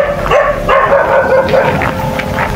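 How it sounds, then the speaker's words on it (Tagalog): Dogs along a roadside path bark in a quick run of sharp yaps and woofs, close and loud, with some yipping in between. "May mga aso ito lang."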